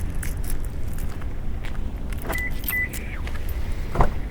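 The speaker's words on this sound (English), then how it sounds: "Get into the car here where it's a little warmer." Someone gets into a car at night outside the Mesa Temple: keys jangle, footsteps and door handling clatter close by, ending with a sharp thump, against quiet outdoor background.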